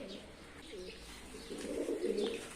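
Pigeons coo softly and close by in low, rolling murmurs that swell toward the end, with faint chirps above and no talk.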